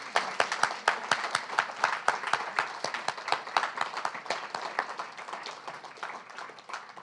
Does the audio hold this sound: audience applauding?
yes